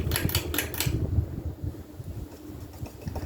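Hunter 1896 Art Nouveau Medalist ceiling fan running with a steady whooshing airflow and a low buzz, mixed with close rattling and handling noise near the microphone.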